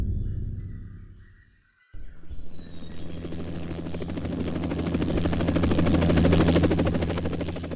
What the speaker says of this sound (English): Armed rangers flew down the Galapagos Islands in helicopters